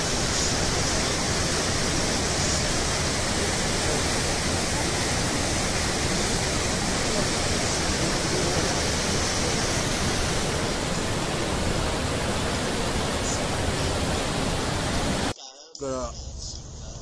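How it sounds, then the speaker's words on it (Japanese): Loud, steady roar of rushing water close by at Ryuzu Falls in Oku-Nikko, continuous broadband noise that cuts off abruptly near the end, leaving quieter ambient sound. "滝に着きました。"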